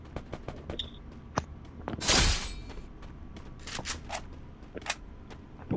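Rifle fire in the mobile battle royale Free Fire: a rapid stream of crisp shots ticking away in the distance, one louder close burst near the middle, then scattered cracks and small clusters of shots without any talking.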